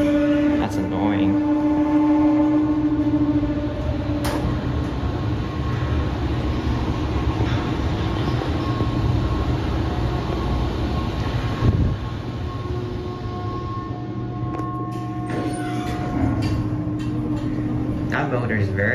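A Montgomery traction motor drives a scenic elevator in the Universal Orlando Resorts garage in Orlando, FL, giving a continuous, fairly loud machine hum with people talking over it.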